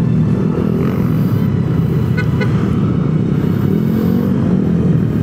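Motorcycles rumble together on a group breakfast ride, a loud continuous low engine drone close by with a brief horn toot midway, no talk over it.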